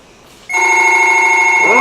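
A telephone bell rings in an old-time radio drama, a loud, bright, sustained ring that starts abruptly after a short stretch of quiet room tone and carries on steadily, close and alone.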